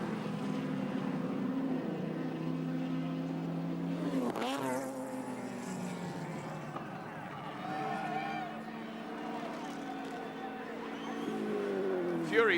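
Touring race cars from the 1983 Surfers Paradise race roar past in a steady, continuous engine drone with a sharp burst near the middle, a commentator talking over the noise throughout.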